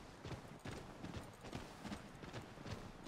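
Horse hooves from the video game Assassin's Creed III clip-clop in a steady trotting rhythm, fairly quiet, with no talking.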